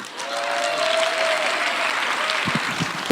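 Audience applause from a crowd at a comedy gathering, steady dense clapping sustained throughout at a fairly loud level, with a faint tone and a few louder claps near the end.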